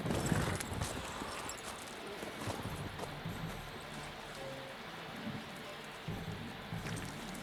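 In the video game The Witcher 3, muffled horse hoofbeats thud along under a dense wash of noise, with a faint whinny rising briefly amid the rumble.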